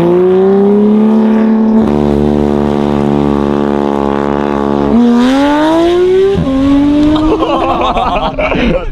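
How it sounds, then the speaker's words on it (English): A Porsche GT3 RS engine sits on its pit limiter, sustained droning tones stepping abruptly in pitch as the limiter cuts in, loud and close, with rougher bursts toward the end. "literally got pit limiter. It sounds like a diesel engine brake."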